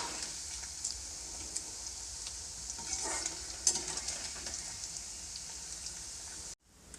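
Paneer fries and sizzles in a pan with a steady, crackling hiss, and occasional soft scrapes mark the stirring before the sound cuts off near the end.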